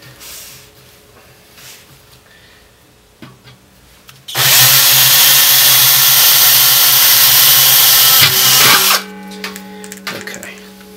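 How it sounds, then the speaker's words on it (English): An electric drill whines loudly and steadily for several seconds while cutting a stainless steel brew pot, then stops, leaving quiet room noise. "it starts cutting as soon as I turn the drill on"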